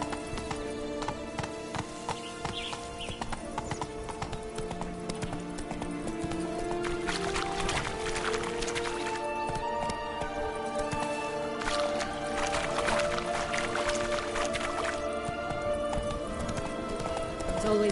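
Horse hooves gallop steadily in The Witcher 3 video game, a fast rhythmic clip-clop running throughout at moderate loudness, with occasional whinnies and background game ambience.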